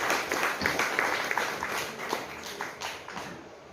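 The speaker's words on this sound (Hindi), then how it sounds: "हम ताली बजाकर स्वागत करेंगे।" A crowd claps to welcome a guest onto the stage at an Independence Day event in Indore, with steady mid-distance applause filling the clip and faint voices underneath.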